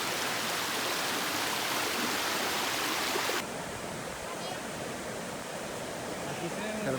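Steady rushing of a nearby creek crossing a hiking trail in Cades Cove, continuous and broadband, with the tone shifting slightly partway through.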